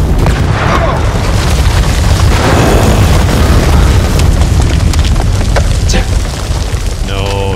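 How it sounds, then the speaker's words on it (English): A grenade explosion in the House of Ashes video game, a heavy sustained rumbling boom filling most of the span, loud and close, with a voice briefly near the end. "No, grenade. Grenade."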